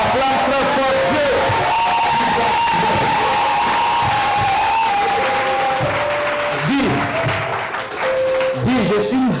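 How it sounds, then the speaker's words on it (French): A church congregation loudly acclaims God with sustained cheering, whoops and applause, a dense crowd roar that stays strong from start to finish while voices rise and fall within it. "Acclame très fort Dieu."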